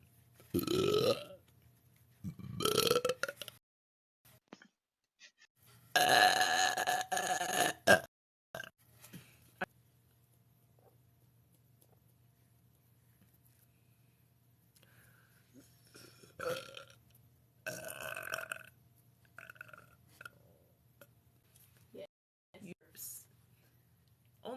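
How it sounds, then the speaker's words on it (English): A woman lets out a series of loud, throaty burps, some drawn out and rumbling, separated by quiet pauses, close to the microphone. "Only burps."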